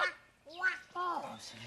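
A voice imitating a heron's call with a few honking, goose-like squawks in short separate bursts, close and fairly loud.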